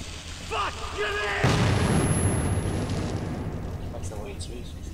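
A grenade goes off in Metro 2033 with a sudden loud, broad blast that rumbles and fades over several seconds, following a few spoken words.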